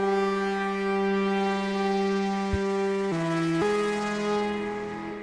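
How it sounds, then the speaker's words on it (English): Two synth lead sounds play in a music production session, a bright buzzy sustained tone holding steady before shifting pitch twice near the end, loud and alone with no voices. "Alright, so I found two pretty good sounding synths for the lead."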